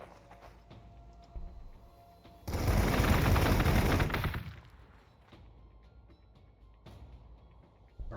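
Gunfire in Warhammer 40,000: Gladius: a loud, dense burst of rapid automatic shots lasting about two seconds, preceded and followed by quiet clicks and faint background tones.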